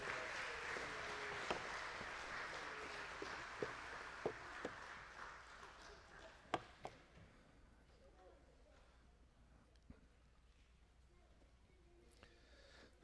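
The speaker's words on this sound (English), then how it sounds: "Let's please give them a round of applause as they go out." Church congregation applauding as children leave for their own service, a broad wash of clapping that is loudest at the start and slowly fades over the clip, with scattered louder claps and a few sharp knocks standing out.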